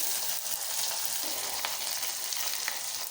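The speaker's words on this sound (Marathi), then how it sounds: "हिंग आपण खडा हिंग टाकायचा आहे" Whole asafoetida sizzling in a ghee tempering for drumstick dal, a steady, close, hissing fry with a few faint pops scattered through it.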